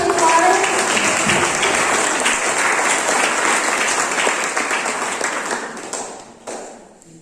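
Audience at an award ceremony during a national EMI tour event at Jim Corbett National Park, Uttarakhand, bursts into loud, sustained applause that tapers off toward the end, with a few voices mixed in.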